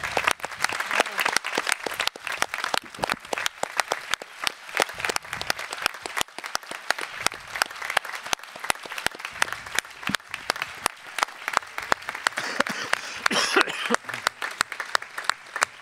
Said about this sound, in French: Et on peut l'applaudir très fort.